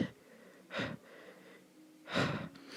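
A voice imitates gasping with two sharp, breathy intakes of air about a second and a half apart, close and fairly loud against quiet surroundings.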